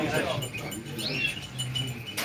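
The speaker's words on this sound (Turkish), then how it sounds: "Gloster erkek kuş burada ötüyor." A male Gloster canary sings at a bird auction in quick, high chirping trills, mixed with people talking and room noise.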